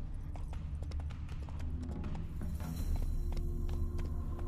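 Hooves of Roach, a horse in The Witcher 3 Wild Hunt, clip-clop steadily at a walking pace under a constant low ambient hum, moderately close.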